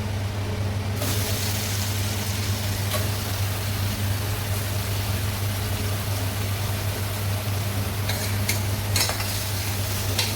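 Mutton sizzling loudly after being added to fried onions in a pan for a spicy Ghati-style mutton curry, a steady dense frying hiss with occasional stirring clinks, close and alone without talk.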